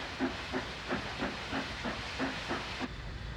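Great Northern A9 class 0-6-0 steam switcher number 389, a Baldwin locomotive working the yards at Williston, North Dakota: a steady hiss of steam with a regular, rhythmic chuffing exhaust, about three beats per second, cutting off abruptly.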